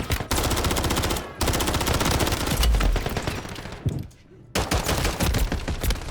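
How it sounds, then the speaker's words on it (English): Call of Duty: Warzone gunfire, loud rapid automatic bursts of machine-gun fire rattling almost continuously with brief pauses, dense and close. "Getting shot already"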